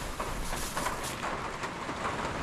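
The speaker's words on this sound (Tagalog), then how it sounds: "Yan, lakas ng ulan. Dinig po ba ninyo ang ulan?" Heavy rain pours down steadily on a farm during harvest time, a dense, close, continuous hiss that fills the scene without pause and with no voices.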